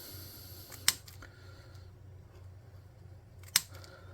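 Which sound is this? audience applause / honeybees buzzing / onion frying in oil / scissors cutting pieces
scissors cutting pieces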